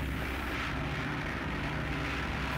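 A small light aircraft over African countryside in 1973, with a steady, loud engine drone and propeller roar filling the cabin continuously without letup.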